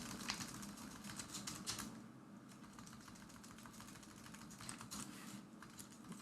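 Steady typing on a computer keyboard while code is written, with rapid clusters of quiet clicks, a short lull, then more keystrokes, close and soft with no talk.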